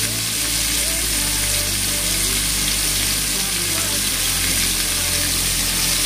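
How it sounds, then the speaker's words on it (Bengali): Cubed potatoes and onion sizzle loudly in hot oil in a pan for a Bengali potato, pointed gourd and prawn dish, with a continuous hiss and occasional stirring. "এবার আলুটা দিয়েও বেশ করে আলুটাও একটু ভেজে নেব।"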